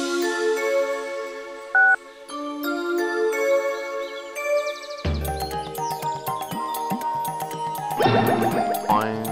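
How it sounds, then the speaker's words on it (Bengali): A mobile phone ringtone plays a bright electronic melody of bouncing, chiming notes. It is loud and alone, then turns busier and more layered partway through. "আমার ফোন এখানে রিং শুরু হলো"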